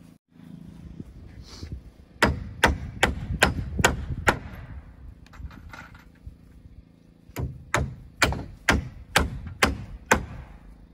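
Hammer blows drive sheathing onto the wood wall framing of a small cabin under construction: two runs of sharp, ringing strikes at a steady rhythm, close and loud, separated by a quiet pause.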